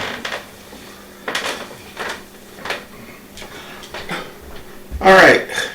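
Cooked cabbage tipped through a colander and back into a metal saucepan: a run of clattering, clanking knocks of metal cookware, close and fairly loud, ending in a heavier scrape and bang, with someone talking over it.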